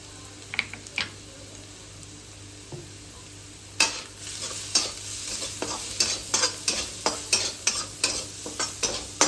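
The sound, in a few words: frying egg with black pepper, cumin powder and salt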